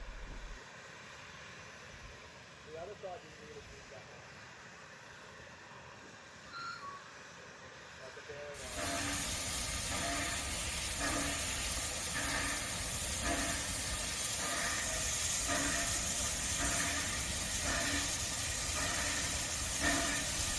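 R-Class steam locomotive being serviced at Moss Vale near the triangular loop, a broad steady hiss of steam that bursts in loudly partway through and continues, with faint rhythmic pulses beneath and quieter ambient sound before it.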